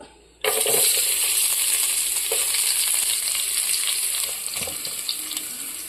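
After a brief quiet moment, a loud burst of sizzling erupts as a bowl of coconut slices hits hot oil, then settles into a steady, close crackling fry.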